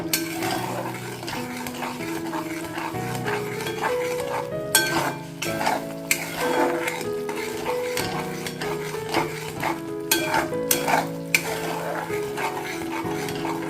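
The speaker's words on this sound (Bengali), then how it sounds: "ততক্ষণ পর্যন্ত এটা কষিয়ে নিতে হবে যতক্ষণ পর্যন্ত তেল ছেড়ে না আসছে দু তিন মিনিট ধরে ভালোভাবে এটা কষিয়ে নিতে হবে" Capsicum and paneer masala being stirred and fried in oil in a pan, with continuous scraping and clinking of a utensil against the pan over a steady sizzle, close and fairly loud with no talk.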